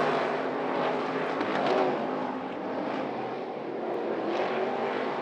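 IMCA modified race cars run together on a tight dirt oval, a continuous roar of several engines heard from a short distance, swelling and easing as the cars circle, with no talking.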